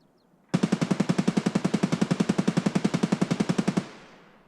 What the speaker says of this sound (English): I don't even know what guns are being shot over there anymore